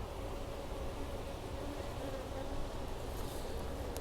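Honey bees crawl and buzz inside a hive among newly emerged bees, giving a low, continuous droning hum with faint nearby buzzing and no clear speech.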